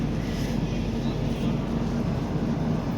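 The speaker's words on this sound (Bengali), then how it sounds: "আর এই আমাদের ট্রেন সাইরাং এক্সপ্রেস" The Kolkata–Sairang Express pulling into platform 6 at Azimganj station, a loud continuous low rumble and roar of the train heard up close, steady throughout with no pauses.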